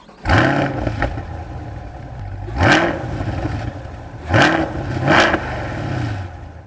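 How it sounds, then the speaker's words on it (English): A 2021 Chevrolet Corvette C8 V8 with upgraded sport exhaust, revved in several sharp throaty blips between a steady idle, heard close and loud with no talking. "This car sounds mean and throaty. Take a listen at this V8."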